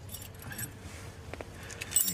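Keys jangle as they are handed over during a police visit to a home, a few quiet metallic clinks close by over a low background rumble.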